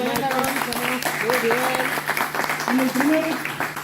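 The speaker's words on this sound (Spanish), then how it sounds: "Un aplauso para" An audience at a talk claps briefly while a speaker's voice carries on over the applause.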